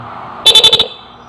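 A stock car horn wired through an interrupter relay sounds in five rapid pulsing toots, chopped into a quick stuttering burst, close and loud, then stops.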